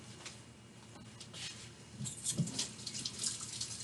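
Hands being washed at a kitchen sink under a running tap, a soft steady splash of water with faint drips and sloshes picking up as the hands move under the stream, close and quiet.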